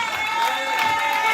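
A crowd at a Golden Globe Race sailing ceremony in Les Sables d'Olonne claps and cheers briefly, a loud, dense wash of applause with raised voices lasting just over a second.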